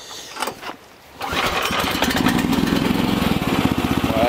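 A new small petrol engine, run without its choke, catches after a moment of quiet handling and fires into a loud, rapid, steady chugging idle close by.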